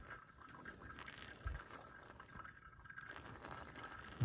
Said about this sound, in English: You're going to focus most of your pouring in the center with these tiny little circles in the center.